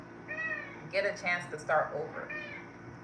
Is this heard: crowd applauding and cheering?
no